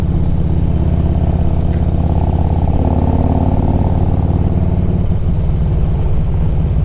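A 2004 Harley-Davidson Electra Glide Ultra Classic FLHTCUI cruising with its V-twin engine, a loud, steady low rumble close to the microphone with a small shift in tone partway through and no talking.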